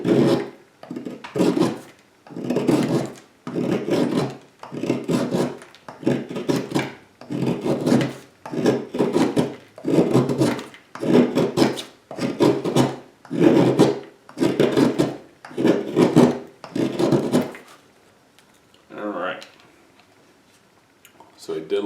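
A SOG Twitch II knife shaves curls off a piece of wood in about sixteen even, rasping strokes at a steady rhythm, close and fairly loud, followed by a short pause with faint rustling at the end.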